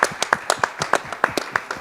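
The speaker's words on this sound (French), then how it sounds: "Je pense qu'on peut vous applaudir" Sparse, irregular hand claps from a small audience at a French conference session on green jobs, about a dozen distinct claps over a couple of seconds, fairly close and moderately loud.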